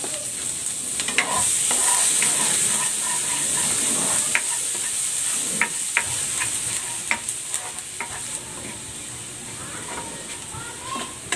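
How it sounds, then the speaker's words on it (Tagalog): Garlic sautéing in a pan with a close, steady sizzle and hiss, broken by occasional clicks and scrapes of a stirring utensil, no talking. "Magigisa na ako ng bawang"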